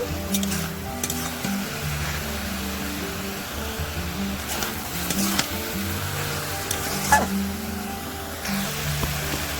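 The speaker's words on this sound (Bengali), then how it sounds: "এবার দিয়ে দেব হলুদ গুঁড়ো দিয়ে ভালো করে নেড়ে নেব" Turmeric powder being stirred into Malabar spinach frying in a pan: low, steady sizzle with soft irregular scraping and squishing stirs, close and moderately loud, no talking.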